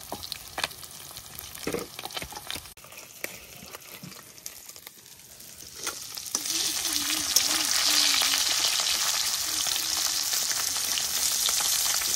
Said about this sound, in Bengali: মাছ আমার সুন্দর করে কিন্তু ভাজা হয়ে গেছে, একদম লাল লাল করে